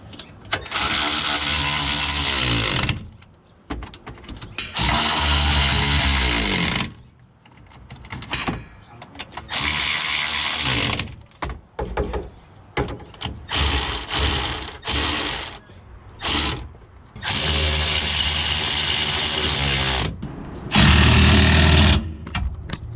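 A power tool whirs in several loud, ratcheting bursts separated by pauses while fastening differential hardware on a Nissan 240SX with an SR20DET engine during a 4.6-ratio diff swap.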